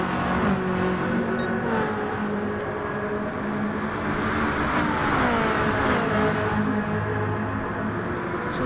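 Ferrari F40 '92 twin-turbo V8 racing around Monza without the chicane in a racing video game, a loud continuous engine drone with rising and falling harmonic sweeps as it accelerates and shifts, several cars audible together, no talking.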